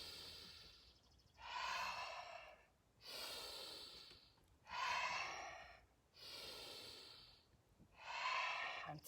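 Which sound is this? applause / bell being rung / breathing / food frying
breathing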